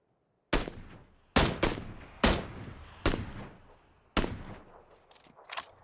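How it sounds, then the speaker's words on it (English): Gunfire in the battle game PUBG: about six sharp, loud shots spaced roughly a second apart, each with a decaying echoing tail, plus a couple of quicker cracks near the end. "we're going to pop some shots and see if we can actually take them out"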